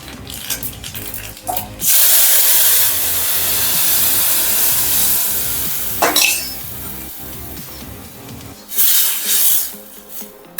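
Mustard seeds, cumin, bay leaf, chilli, cinnamon, cloves, asafoetida and chutney tempered in hot oil for ragda, a loud hissing burst of sizzle that rises and holds, with pan clinks and a second flare near the end.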